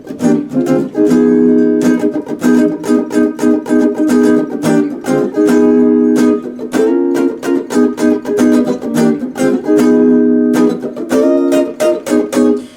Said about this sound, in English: We have like an opening intro vamp, which kind of sounds like this.